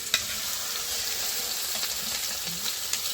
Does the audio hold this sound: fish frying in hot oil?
yes